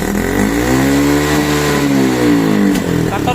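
A Honda Wave 125 motorcycle engine revs steadily at half throttle, a loud, sustained mid-pitched drone held close by for the whole stretch with no talking.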